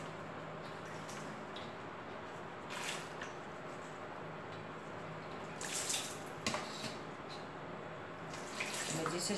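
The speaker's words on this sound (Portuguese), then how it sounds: "A gente vai enxaguar aqui dentro dessa bacia" Water runs steadily into a basin while things are rinsed, a continuous close hiss of the stream with occasional louder splashes and sloshes, and no talking over it.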